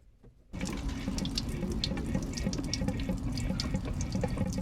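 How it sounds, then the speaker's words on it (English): Water gushing steadily from a motorhome's water system as it drains for winterizing, starting abruptly after a quiet moment and continuing as a close, constant rushing flow. "Now the water should all be running out now."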